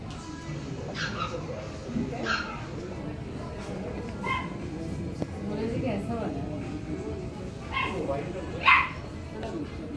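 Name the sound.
puppy barking and whimpering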